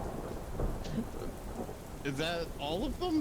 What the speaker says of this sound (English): the rain's a little loud